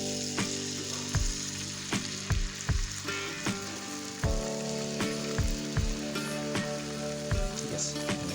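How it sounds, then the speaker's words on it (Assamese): Egg frying in a buttered pan for a bread omelette, crackling steadily with sharp pops and spits recurring throughout, close and moderately loud. "তাৰপিছত এতিয়া মই ইয়াত ডিম দি দিম।"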